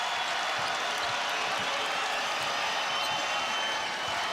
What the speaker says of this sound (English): That got the crowd alive here at CenturyLink Center.